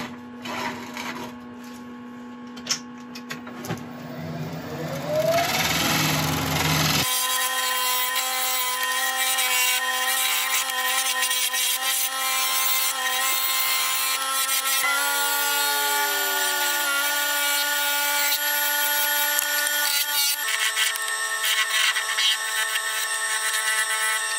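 Lathe tool cutting a tenon in very wet wood on a woodturning lathe, a continuous loud droning hum with scraping and shifting tones, preceded by quieter handling sounds.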